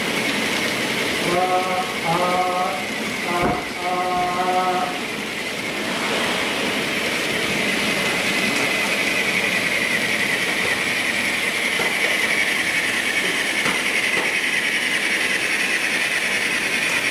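An N scale model Pennsylvania train hums and rattles steadily along its layout track, a continuous whirring run with a brief horn-like tone near the start and faint voices in the background.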